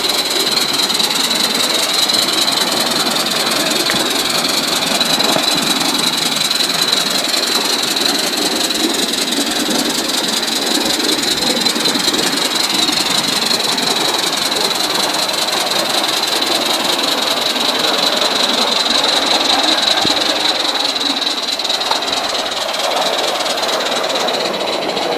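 A Gauge 3 Atlantic model steam locomotive runs continuously on a garden track, producing a steady, close mechanical hiss and rumble with a high whine held throughout and no pauses.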